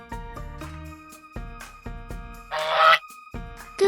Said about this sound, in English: This is a goose.